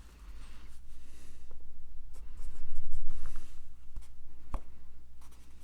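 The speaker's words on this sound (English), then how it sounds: "And I'll write those down." A pen writes down men's suit fitting measurements, scratching close up in short strokes and pauses that rise and fall over a quiet low hum, with a couple of small taps.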